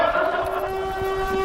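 Siren Head's siren wails in a short, steady sustained tone with faint rumbling and noise around it, heard at moderate distance.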